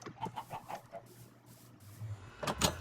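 A few short chicken clucks in Minecraft sound in quick succession, followed by quiet, then a couple of brief sharp clicks near the end; soft and close.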